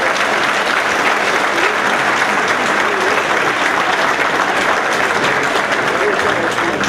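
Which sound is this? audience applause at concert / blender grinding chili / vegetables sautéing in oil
audience applause at concert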